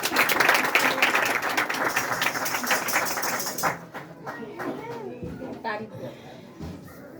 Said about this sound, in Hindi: अपने वास्ते भरपूर तालियां बजाओ।